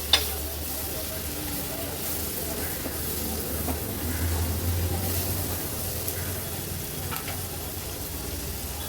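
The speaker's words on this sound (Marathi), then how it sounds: "हळद आणि मसाला पण कांद्यामध्ये छान असा परतून घ्यायचे." Onions sautéing with turmeric and homemade Agri-Koli masala in a pan give a steady, close sizzle and hiss with a few faint stirring scrapes.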